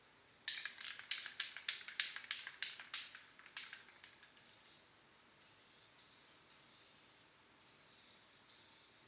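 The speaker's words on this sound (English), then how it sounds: "The first coat I'm spraying on here is going to be a really, really light, dusty coat" Rapid short hisses from a spray paint can laying a light, dusty coat give way to a few longer, steady bursts of spraying, close by and fairly quiet.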